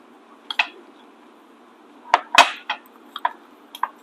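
A utensil clinks against a bowl while a homemade high-protein snack mixture is stirred: sparse, light clinks and taps in small clusters, close by, with no talking.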